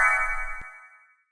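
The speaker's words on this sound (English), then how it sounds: "Oh, my Facebook notification." A Facebook notification chime sounds on a phone, one bright ringing tone with a quick tap partway through, fading out cleanly after about a second with nothing else heard.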